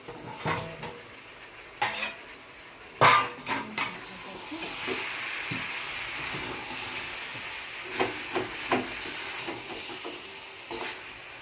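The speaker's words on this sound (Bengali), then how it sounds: "রসুনগুলো দিয়ে দেবো, একটু নেড়ে দিয়ে ঢাকা লাগিয়ে দেবো।" Garlic stirred in a cooking pan, with scattered metallic clinks and scrapes, louder clanks as a lid is set on and lifted off, and a faint steady hiss between them.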